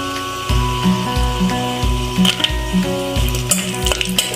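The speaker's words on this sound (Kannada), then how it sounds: "ಲೋ ಫ್ಲೇಮಲ್ಲೇ ಇಟ್ಕೊಂಡು ಈ ಥರ ಫ್ರೈ ಮಾಡ್ಕೊಳ್ಳಿ" Cashews fry in oil with bay leaf, fenugreek, cinnamon and cloves over a low flame for mushroom biryani, giving a steady close sizzle broken by periodic stirring scrapes, with no voices.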